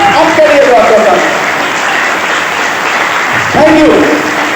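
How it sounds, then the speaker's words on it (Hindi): An audience at an AWPL product presentation applauds loudly, a dense continuous wash of clapping from many hands throughout, with a voice speaking over it at the start and again near the end. "तो क्यों ना बजाई जाए ताली, तो बजाइए जोरदार"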